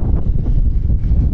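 Strong wind buffets the microphone in a continuous loud, low rumble that pulses unevenly throughout, with no voice audible.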